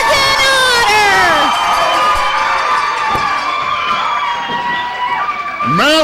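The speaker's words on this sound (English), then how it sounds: "would you listen to this crowd here at Davis Arena" A loud wrestling arena crowd cheering and whooping at Davis Arena during a 1998 OVW tag-team bout, a dense continuous roar with shrill high voices rising and falling throughout.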